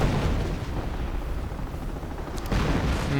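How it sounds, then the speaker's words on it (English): Dense, continuous rumble of artillery fire and explosions in a WWII strategy video game, loud and broadband throughout with booms blending into a steady roar and no voices. "Artillery going down"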